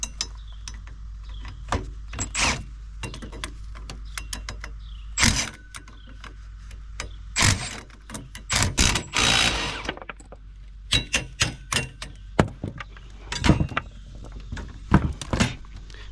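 Scrap metal pieces being stacked in a backyard junk pile, giving a series of sharp metallic clanks and thunks at irregular intervals, some in quick bursts, close by with no talking.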